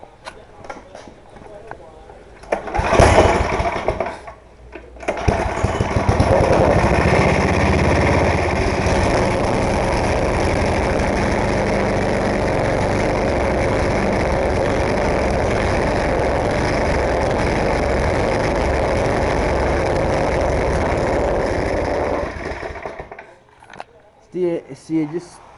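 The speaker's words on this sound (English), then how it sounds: "it just starts like sputtering or whatever you call it when it just goes pum pum pum pum pum pum pum" Snowblower engine run at full throttle, sputtering loudly in a steady rapid putter for about eighteen seconds after a brief startup burst, then cutting out into near quiet.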